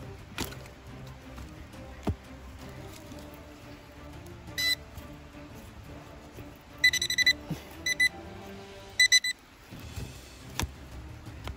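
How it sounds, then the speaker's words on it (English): A handheld metal detector gives several short electronic beeps, some clustered in quick bursts and others single, over a faint background hum, with no talking. "Now let's look again with our little detector."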